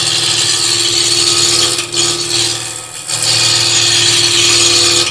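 Wood spinning on a lathe while a hand-held turning tool cuts into it, with shavings flying; a steady near machine hum under a continuous scraping cut that briefly eases twice, no talk.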